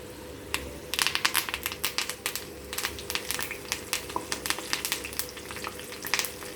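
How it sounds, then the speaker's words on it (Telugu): Curry leaves frying in hot oil for a tomato and okra pachadi, with garlic, chillies and dried red chillies in the pan, give off dense, crackling sizzle in rapid bursts, close and steady throughout. "సో ఇప్పుడు కొంచెము ఇది కరివేపాకు వేసుకుందాము"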